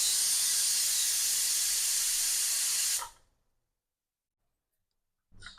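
Pressure cooker cooking goat legs (paya) curry vents steam in a loud, steady hiss for about three seconds, then cuts off to silence before a brief faint noise near the end.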